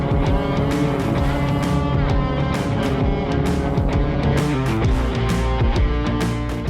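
A Magni gyroplane fitted with fat tires takes off under a loud, continuous engine and propeller drone that holds steady with a rhythmic pulsing beat, heard close up with no talking.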